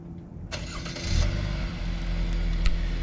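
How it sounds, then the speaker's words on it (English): A 2019 Chevy Impala with an inline four-cylinder engine fires up from a push-button start, a brief starter crank giving way to a steady, rising idle that settles into a low rumble. "and the engine turns on."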